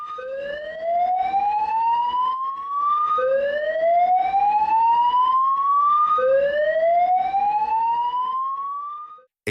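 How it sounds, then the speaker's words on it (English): A loud alarm wails in three long rising sweeps, each climbing steadily in pitch before resetting, with no voices present. "General and fire alarm."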